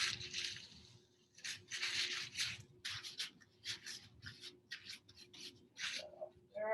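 Glue being rubbed into the face of plywood edging for a cabinet face frame, a close, soft scratchy rasping in short repeated strokes of uneven rhythm, with no talk.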